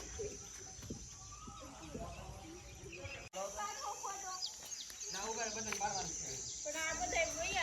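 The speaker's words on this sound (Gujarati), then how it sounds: "મોરનો અવાજ આવે." A peacock calls outdoors near Bhanvad, giving a run of loud, repeated calls in the second half, with other birds and insects chirping steadily around it.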